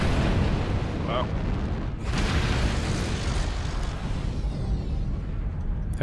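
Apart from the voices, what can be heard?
airstrike explosions in a mech video game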